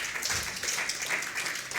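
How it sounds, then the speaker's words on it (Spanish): Congregation applause at an Easter Sunday church service, a brief, dense burst of clapping from a crowd lasting under two seconds. "Dale un aplauso bien fuerte."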